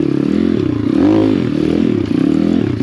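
Pit bike engine droning and revving on a snowy, wet, slippery enduro trail, a loud steady mid-pitched motor that swells briefly mid-clip, heard close from the rider.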